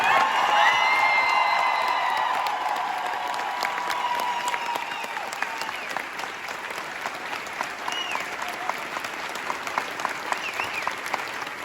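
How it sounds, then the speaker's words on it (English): Theatre audience applauds at the final Hamilton curtain call in Chicago, steady dense clapping with a few whoops, loudest at the start and tapering slightly while a voice speaks briefly early on. "Ladies and gentlemen, we must give them another round of applause."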